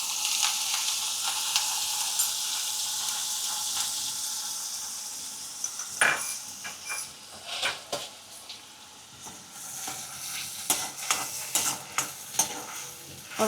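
Onion gravy being stirred in a frying pan for masala chana, with curry leaves and asafoetida, a soft steady sizzle at first, then scraping spoon strokes in irregular bursts, close and alone.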